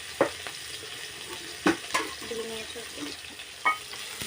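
Fish fry in a pan for a Medinipur-style sour fish dish, a low steady sizzle broken by a few sharp crackles and pops, with occasional stirring.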